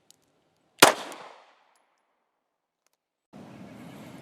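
A pistol slide is racked once, a single sharp metallic snap that rings briefly and fades, followed by a long silence and then a soft steady rustle.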